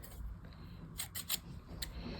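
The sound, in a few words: cutting with scissors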